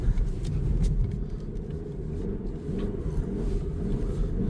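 A 2025 Toyota Crown Signia pushing through about 12 inches of uncut snow using all four wheels, a steady low engine rumble and churning drone, close and continuous with no talk.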